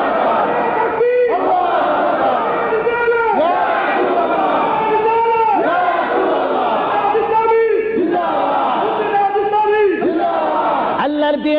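At a religious sermon, a massed crowd roars the takbir chant, Allahu Akbar, in loud rhythmic unison, one call-and-response shout roughly every two seconds, repeated steadily throughout.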